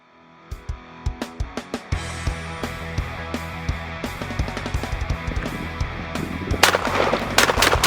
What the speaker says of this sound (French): On va tirer un magasin complet, puis on va voir l'efficacité de cette munition sur notre cible.